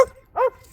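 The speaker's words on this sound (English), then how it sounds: "Oh, dogs everywhere." A dog gives a single short, sharp bark outdoors, loud and close, with a brief whimpering sound just before it.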